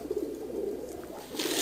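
Pigeons coo softly in a home loft where some of the birds are injured, giving a low, murmuring call that stays quiet and close.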